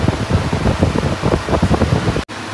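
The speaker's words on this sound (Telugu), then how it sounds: "హై మోడ్ సౌండ్ మీరు చూడొచ్చు" On its high setting, a Tata Voltas Desert Air Cooler JetMax 54L gives off a loud, continuous rush of blown air with a pulsing roar, which cuts off abruptly near the end.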